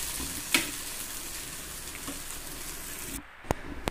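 Food fries in a pan at home on a gas stove, a soft continuous sizzle with a utensil clink and a couple of sharp scraping knocks as it is stirred.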